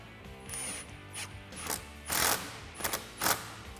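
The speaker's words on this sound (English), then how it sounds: "you can tighten that down with the same 8mm socket" Ratchet wrench with an 8mm socket tightening an air filter clamp on a Jeep Wrangler JK cold air intake, several short bursts of close clicking strokes with pauses between them.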